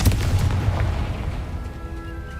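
A Confringo spell blast in Hogwarts Legacy lands as a loud, low boom at the start, its rumble rolling on and slowly fading over a couple of seconds, with a faint ringing tone lingering near the end.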